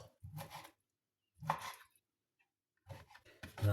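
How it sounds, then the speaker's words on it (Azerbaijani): Broccoli cut with a knife on a board, heard as three separate crunchy chopping bursts with pauses between them, quiet and close. "doğrayırıq."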